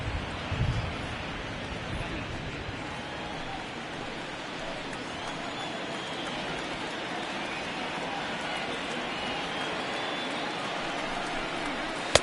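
Steady broadband hiss of rain falling on a baseball field in MLB The Show 19, a continuous even wash with no breaks, carrying on alone beneath the game's ambience.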